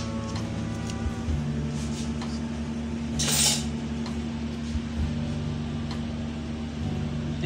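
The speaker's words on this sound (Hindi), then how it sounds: "अब मैं उनको बीट कर रही हूँ अच्छे तरीके से।" Two eggs beaten in a bowl for a cheese omelette: light clinks and taps of a utensil against the bowl at an irregular pace, over a steady background hum with a brief louder scrape.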